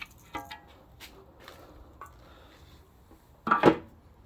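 The upper oil pan comes off a Powerstroke diesel engine: a few scattered metallic clinks and taps, then a louder clattering knock of metal parts near the end, in a quiet workshop.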